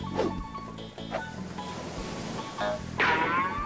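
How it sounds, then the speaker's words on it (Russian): Cartoon ocean surf rolls and washes in steady waves, a broad hissing rush with a few brighter splashy swells, loud and close, with no one speaking. "Наконец-то океан!"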